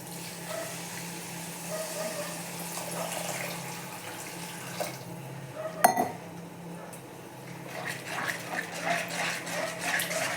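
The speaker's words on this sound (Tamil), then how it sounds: "கொஞ்சம் வதக்கி விட்டுட்டு நம்ம கொஞ்சம் தண்ணி சேர்க்கலாம்." Water runs and splashes into a pan of sautéed ingredients for egg curry, with a few metallic clinks of cookware, close by, under a low background hum.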